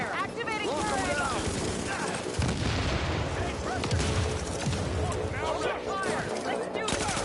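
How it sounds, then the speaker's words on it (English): Gunfire rattles through a firefight in the video game The Division, with dense overlapping shots and booms under a steady noisy backdrop while a voice talks over it. "I'm opening fire!"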